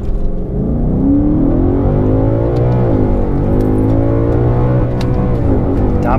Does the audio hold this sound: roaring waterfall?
no